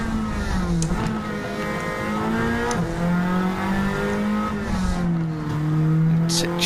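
A touring car engine in a racing game climbs through the revs and shifts into third gear uphill on a circuit in Alsace, France. The loud droning note rises, dips at each gear change and climbs again, with commentary over it.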